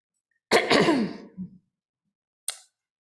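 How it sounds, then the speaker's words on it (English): A single adult throat clearing up close, a harsh broadband rasp of about a second with a short second catch, then a brief breathy click after a pause, in a quiet room during a Shabbat morning service. "Pardon my clearing my throat."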